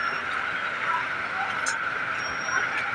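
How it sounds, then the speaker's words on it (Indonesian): A truck drives out, its engine and road noise a steady, moderately loud rumble and hiss that never breaks, with a brief high whine partway through. "Satu unit kendaraan truk ya udah keluar guys."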